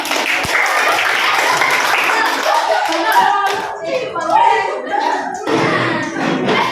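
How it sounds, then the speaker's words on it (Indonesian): Classroom of students applauding on a teacher's request during a fractions lesson, a dense, loud wash of clapping hands that thins out near the end, with children's voices mixed in. "berikan aplaus semua dulu"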